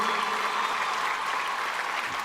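Audience applause at a women's poetry gathering (kavi sammelan) for International Women's Day, a steady, dense wash of clapping from a crowd that holds evenly throughout without talk over it.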